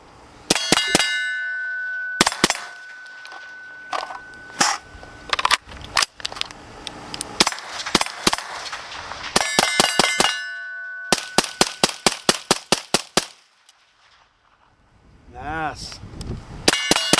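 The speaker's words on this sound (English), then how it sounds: "the loudest part of this is when the bullets hit the steel plates. That's way louder than the gunshot is." A suppressed Ridgeback Defense Rhino X rifle fires at steel plates, and each muted shot is followed by a sharp ringing clang of bullet on steel, in quick irregular runs and a rapid string, with pauses between volleys.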